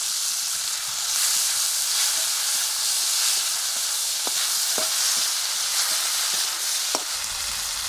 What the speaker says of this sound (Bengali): এইভাবে বেশ কিছুক্ষণ নাড়বো যতক্ষণ না টমেটো গলে যাচ্ছে